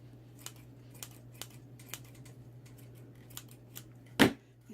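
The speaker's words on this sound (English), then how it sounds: "So I'm going to trim that off." Scissors snipping through beachy wreath material, a quiet series of sharp, separate cuts at irregular spacing, closing with one louder, nearer snip, heard alone with no talk.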